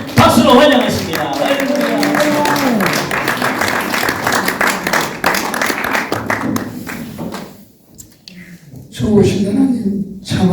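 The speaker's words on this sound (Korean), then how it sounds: "강사님 나오실 때 하나님께 영광의 박수 돌리시면서 박수로 환영하십니다." A church congregation at a New Year's blessing service with people with disabilities applauds to welcome a guest speaker, a sustained wash of clapping with voices and music, fading briefly before resuming.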